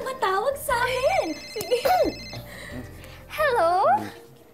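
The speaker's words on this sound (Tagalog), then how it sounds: "May tumatawag sa akin!" A cellphone rings with an incoming call, a melodic ringtone that plays in repeated phrases, loud and close, with a short pause between bursts.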